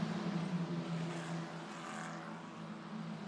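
Euro 4 Championship race cars at Mugello Circuit in Italy produce a steady, droning engine roar with a slight rise and fall as they approach a corner, continuous and fairly distant, with no talk.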